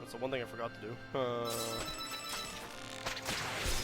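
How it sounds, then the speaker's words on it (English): A mobile phone rings with a short, bright melodic tone that is clearly audible next to someone talking, with other busy background sound around it. "That's my phone."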